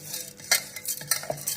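Wheat is stirred with a little water in a bowl, giving short scraping and clinking strokes of a spoon in quick succession, close and fairly loud with no talking.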